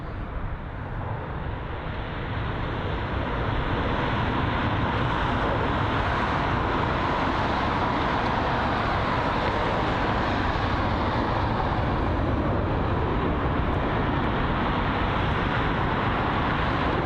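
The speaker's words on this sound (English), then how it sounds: "It's the Virgin Atlantic A350 1000 that's arriving from San Francisco" A Virgin Atlantic Airbus A350-1000 airliner arrives at London Heathrow from San Francisco with a loud, steady, broadband jet roar that holds unbroken throughout, with no talking.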